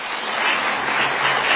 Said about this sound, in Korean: 단일 행사에 이렇게 자주 박수 소리가 나온 적이 있었던가 싶습니다